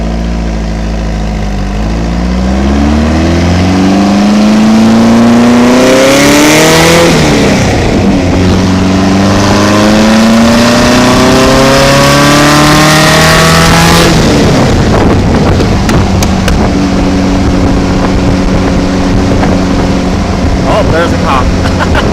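A car engine with a Stinger exhaust revs loudly up and down in sweeping climbs and falls, a raw, noisy exhaust note close by, easing back toward a rougher idle near the end.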